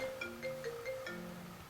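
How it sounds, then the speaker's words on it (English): A mobile phone rings faintly in a quiet room during a wristwatch repair, its short electronic tone pulses repeating in an even pattern. "my phone is ringing"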